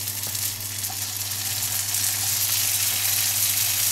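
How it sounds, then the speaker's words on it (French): Steady, dense sizzle of almond pastry cigars frying in hot oil, close and continuous, with a low hum underneath and no talking. "Ils sont prêts à être frits."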